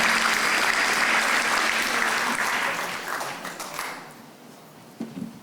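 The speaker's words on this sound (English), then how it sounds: "Let's give Arthaland's Mr. Oliver Chen a round of applause." An audience applauds loudly and steadily, then the clapping thins out and fades, leaving a few scattered claps and a faint voice.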